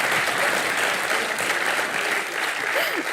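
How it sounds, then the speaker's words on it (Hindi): A studio audience applauds on a Colors TV talk show, with steady, dense clapping throughout at a constant loud level. A faint voice briefly sounds beneath it near the end. "तालियां मारो उनके लिए।"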